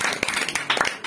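Students in a classroom clap: a brief patter of scattered hand claps, fairly close and uneven, lasting about a second.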